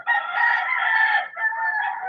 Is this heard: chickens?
yes